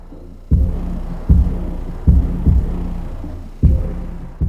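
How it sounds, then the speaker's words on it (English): Deep bass thumps from a 12-inch ported subwoofer in a side-port box inside a garage, loud booming hits recurring every second or so with a rattling resonance and low rumble between them, no talk. "It's hard to get a clean recording to show you the sound quality because this subwoofer is rattling"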